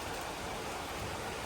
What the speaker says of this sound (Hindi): देखो अभी भी बारिश हो रही है